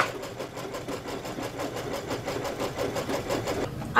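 Embroidery machine stitching basting boxes with Exquisite thread, a fast steady needle chatter over a mechanical hum, close and continuous for a few seconds, no talking.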